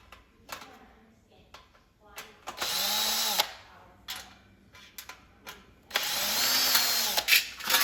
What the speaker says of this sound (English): Back to using the drill.